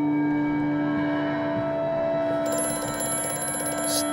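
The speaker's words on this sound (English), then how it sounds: "It's that phone again!" A telephone rings in the horror video game Amnesia: A Machine for Pigs, a bright metallic bell tone rising over a steady mechanical hum in a cellar, with no talk.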